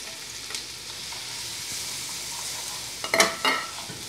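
Chicken fries in a pan with colorau, a soft steady sizzle under close stirring, with a few sharp spatula scrapes and clinks standing out near the end.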